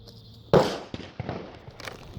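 A single sharp .22 Magnum gunshot in a penetration test, a close, loud crack followed by a few fainter knocks and thuds.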